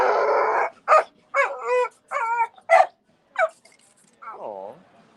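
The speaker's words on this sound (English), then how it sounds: "What kind of dog is that?" A dog outside a restaurant during a street protest gives a run of short yips, whines and bark-like cries in close, separate bursts, ending in a drawn-out whimper, with voices nearby.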